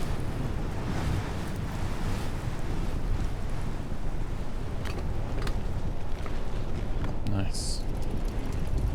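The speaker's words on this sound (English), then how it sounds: "It is very windy." Wind blowing in the Amerzone video game, a loud continuous rushing gust noise with faint scattered clicks and a brief higher tone near the end.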